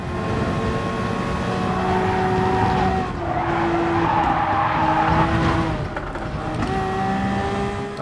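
A race car in Gran Turismo Sport spins on hard tyres, engine droning steadily while the tyres squeal and skid through the corner, loud and close with no talking.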